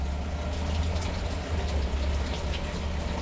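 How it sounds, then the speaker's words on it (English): Small water pump running inside a teardrop trailer as its tanks run empty, a steady low droning hum with constant mechanical rumble throughout, fairly loud and close, no voices. "You can hear the pump."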